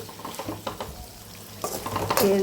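Spicy chicken pieces shallow-fry in a pan until golden, with a steady close sizzle and intermittent scraping stirs that swell louder toward the end.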